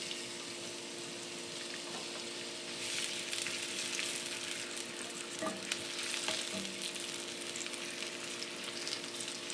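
Shiitake mushrooms frying in oil in a tilted pan, a quiet, even sizzle with a brief clatter of stirring midway, heard close and alone.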